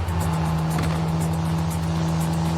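Steady car engine drone from the video game Neverness To Everness, a loud continuous hum with a strong low tone and little variation, heard alone without speech.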